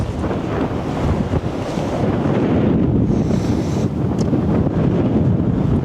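Strong 30 mph wind roars across a golf course, buffeting the microphone in a continuous, loud rush with no voices.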